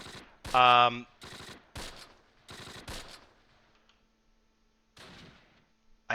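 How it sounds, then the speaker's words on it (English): Gunfire from the WWII tactics game Close Combat Last Stand Arnhem, several sharp bursts of rifle and machine-gun shots spaced across the span, with quiet gaps between and one short burst at the end. "Raptors still just shooting at whatever they can."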